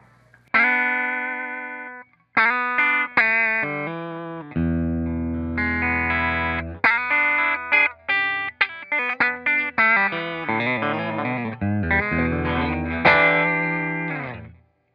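A distorted electric guitar on the bridge pickup of a modded Fender Telecaster plays chords and single-note riffs, loud and close, with short pauses between phrases and no voices.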